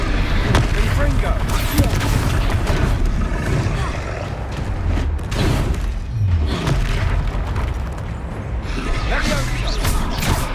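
Confringo fire spell blasts in Hogwarts Legacy, heard as repeated heavy booms and roaring bursts amid dense layered combat noise, mixed with shouted voices.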